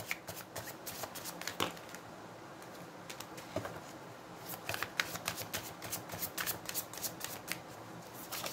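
Tarot cards are shuffled by hand, giving a fairly quiet, continuous patter of papery riffles and sharp card clicks that comes in uneven bursts, with no talking.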